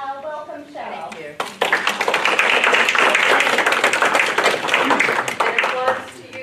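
An audience applauding to welcome a speaker at a talk on recycling, dense sustained clapping that starts abruptly after a brief spoken introduction and fades out after about five seconds.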